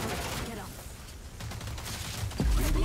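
Gunfire in a shooter video game, scattered bursts amid busy game noise, with a sharp loud shot near the end; a voice talks faintly underneath.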